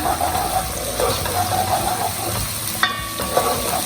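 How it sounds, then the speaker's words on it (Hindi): Cumin seeds sautéing in a pan for dhaba-style daal mash: a steady close sizzle and crackle with faint clinks. "ऐड करूँगी ज़ीरा, हम इनको सॉसे करेंगे हल्का सा।"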